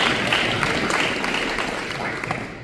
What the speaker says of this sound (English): Brian Daly from We Revive, you guys, give him a round of applause